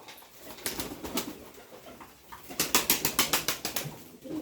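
Fantail pigeons flutter nearby, their wings beating in a quick run of rhythmic flaps, with softer rustling and faint cooing between the bursts.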